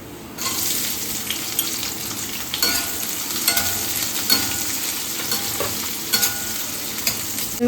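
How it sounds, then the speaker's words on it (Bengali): Chopped onion hits hot oil with garlic and nigella seeds in a pan for a mixed vegetable curry, giving a steady, close sizzle with scattered scraping stirs throughout. "এবারে এইখানে একটা ছোট পেঁয়াজ কোচানো দিয়ে দিচ্ছি দেখো"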